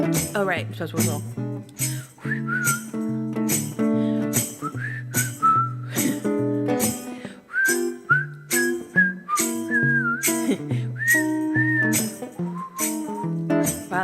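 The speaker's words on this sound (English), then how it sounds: "I'm supposed to whistle" A person whistles a melody of clear sustained notes and quick runs over a steady accompaniment during a live song premiere, the whistling loud and close with rhythmic pauses between phrases.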